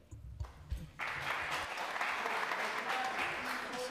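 Audience clapping at a public hearing, a burst of applause from the room starting after a second of quieter noise and holding steady at moderate volume to the end.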